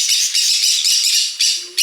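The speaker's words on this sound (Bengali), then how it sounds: "এই পার্কের মধ্যে কিছু পাখিও রাখা আছে পাখিগুলো বেশ কিচমিচ করছে" Birds in an aviary at Jhargram zoo squawk loudly and close by in a quick series of harsh, shrill bursts with only short gaps between them.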